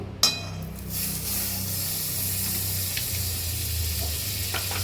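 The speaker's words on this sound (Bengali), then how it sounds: "এবার কড়াতে বাটার দেবো" Butter melting and sizzling in a hot wok (kadai) while cooking paneer makhani, a steady soft frying hiss with a light clink near the start, close and continuous with no talk.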